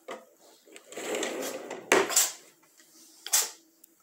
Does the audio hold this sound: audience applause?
no